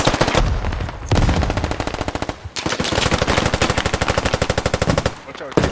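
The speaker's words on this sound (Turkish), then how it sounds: "We are under heavy fire." Heavy automatic gunfire in the Squad video game: loud, rapid machine-gun bursts run almost nonstop, broken by a few short pauses.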